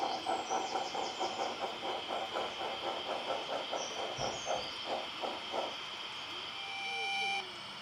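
Pickup goods train rolling on the Peckforton Light Railway, a steady clickety-clack of wheels over rail joints for several seconds that fades out, with a high whistle-like tone near the end.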